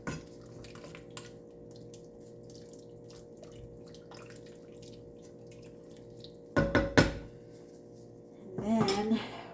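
A spoon scrapes and clinks against a pot of potato soup as vegetable broth is stirred in, quiet metallic clatter with a couple of louder knocks and faint dripping.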